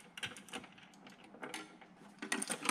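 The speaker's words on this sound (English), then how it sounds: "it looks like it uses a 10 millimeter wrench." A 10 millimeter wrench turns a U-bolt while a signal booster bracket is mounted, with a quick run of faint close metallic ratcheting clicks and taps.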